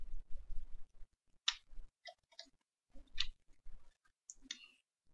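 Mouse clicks on a website's institutional email link, several sharp dry ticks spaced irregularly across a quiet background, close and fairly faint, with no talking.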